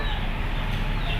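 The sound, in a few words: chicken clucking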